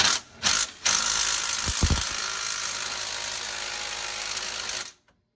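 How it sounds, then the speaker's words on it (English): A small 3/8 inch impact gun works on the rear suspension of a Pontiac Trans Am, giving two short bursts, then a brief hammering, followed by a long steady rattling whir of several seconds that stops abruptly, loud and close. "So we'll see here in a minute if this little 3/8 gun will do the job."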